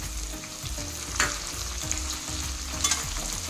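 Onions, green chillies and curry leaves frying in a pan for an egg kaju masala curry, producing a busy close sizzle with repeated stirring scrapes and a few sharp spatula clinks.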